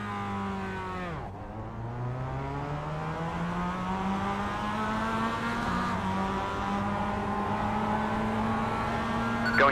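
Mazda MX5 cup cars launching at a race start in iRacing, several engines revving hard together with rising pitch through the gears, a steady loud engine drone throughout, no talk.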